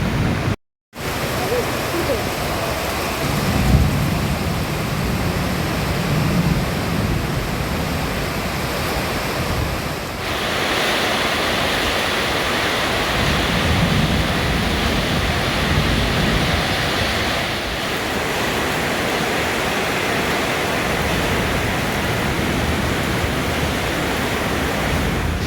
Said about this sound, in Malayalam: അടിപൊളി മഴ വന്നുകൊണ്ടിരിക്കുന്നുണ്ട്